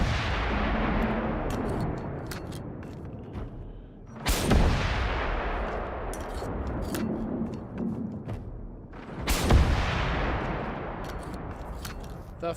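Sustained automatic gunfire at an enemy in the video game Generation Zero, a dense continuous roar broken by two heavy booming impacts, loud and close throughout.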